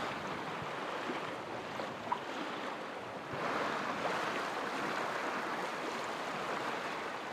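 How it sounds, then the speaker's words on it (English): A sailboat running under genoa through a rocky sound in gusty wind, with a broad, steady wash of waves and water rushing past the hull and soft wind buffeting the microphone, no one speaking. "we're sailing through Kyrkesund, and the wind is going a bit up and down here because of the rocks"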